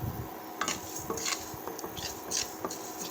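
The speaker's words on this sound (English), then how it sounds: "So now I have taken 1 spoon of rice, parboiled rice, and I am dry roasting it." A spoonful of parboiled rice is dry roasted in a pan, with close, light scraping and clinking of a utensil being stirred against the metal in an irregular rhythm.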